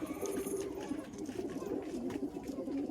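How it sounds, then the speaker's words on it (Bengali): Punjabi Malwai pigeons coo steadily and close by in a continuous low, rolling murmur of overlapping calls, with no speech over them. "কত সুন্দর পায়রা"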